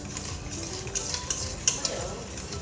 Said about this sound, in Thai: คนให้มันเข้ากัน คนให้มันเข้ากันให้เป็นสีขาวไหม